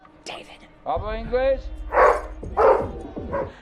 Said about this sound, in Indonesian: anjing penjaga menggonggong-gonggong terus